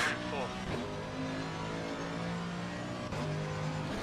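Mercedes race car in Assetto Corsa Competizione howls at high revs, its engine note shifting through gear changes and a brief dip before climbing again, with a voice talking over it.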